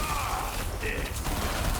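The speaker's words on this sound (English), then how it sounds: "I really just am enjoying shooting them this time." Rapid bursts of gunfire from the Fortnite Save the World video game, heard mid-distance and steady throughout, with a voice talking over the shooting.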